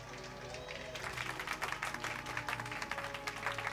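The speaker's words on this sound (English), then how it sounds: "Give yourselves a massive round of applause." A live show audience applauding, a dense patter of clapping with a voice mixed in at the start.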